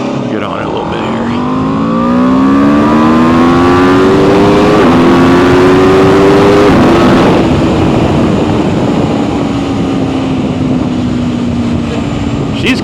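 A 2026 Aprilia RSV4 Factory motorcycle accelerating hard, its engine note climbing loudly through the gears with brief shift breaks, then holding a strong sustained roar, heard close from the rider's position.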